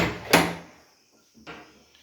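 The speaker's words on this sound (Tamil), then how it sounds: "கதவை திறந்தோம்னா வாஷ்ரூமுங்க." A washroom door in a resort room at a forest stay in Masinagudi swings open with a sharp knock and a creak. A fainter bump follows about a second later, with no talk.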